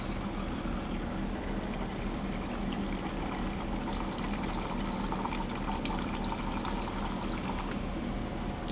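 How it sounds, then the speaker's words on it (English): Acid poured into a bucket of water fizzes steadily while a pool salt cell is cleaned, a dense, even hiss and bubbling that carries on unbroken at close range, with no talk. "just pour it right in. It's getting a nice fizz now."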